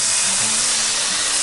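Chopped thick-sliced bacon sizzles in a Blacklock cast-iron skillet, a loud, steady hiss with no break across the short stretch.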